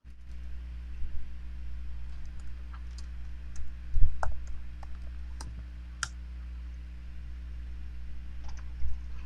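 Typing on a computer keyboard: sparse, faint key clicks scattered over a steady low electrical hum, with no talk.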